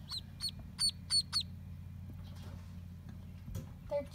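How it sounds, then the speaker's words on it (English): Several high, quick chirps from ducklings in a short run, followed by quieter rustling and a last faint peep against a low background hum. "They're chirping, or whatever ducks do."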